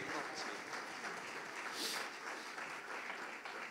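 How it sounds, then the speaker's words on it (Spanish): A congregation at a Catholic evening service in Santa Cruz La Laguna breaks into steady, moderately distant applause that carries on for a few seconds without talk. "Un fuerte aplauso a la palabra de Dios en esta noche."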